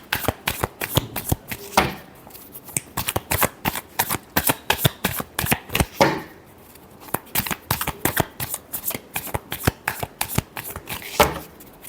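Tarot cards being shuffled by hand in rapid, crisp riffling bursts, close and clear, repeating steadily with brief pauses between runs and no talking.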